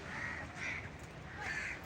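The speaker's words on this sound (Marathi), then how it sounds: "वरती कावळे वगैरे फिरतात आहे" Crows caw overhead near coconut palms by the sea, three drawn-out calls spaced evenly over a steady outdoor background, fairly near and clear.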